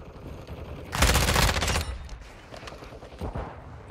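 Explosive-round shotgun fire in Call of Duty: Modern Warfare II, a loud burst of blasts lasting about a second with fainter shots trailing afterward, no talk over it.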